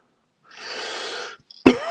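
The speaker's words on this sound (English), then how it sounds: "apologies for coughing and spluttering and all that" A close, breathy cough or splutter lasts about a second, followed after a brief pause by a sharper catch of breath.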